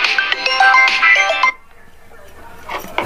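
A phone ringtone plays a bright electronic melody, stops, and then starts up again after a short pause.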